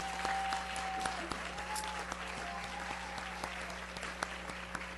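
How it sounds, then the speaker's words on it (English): Sustained round of applause from a school board work session audience honoring a coach, steady dense clapping throughout at moderate distance with a faint tonal hum underneath. "So let's give Coach Brown a big round of applause again."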